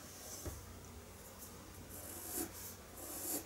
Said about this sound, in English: And I'm going to burnish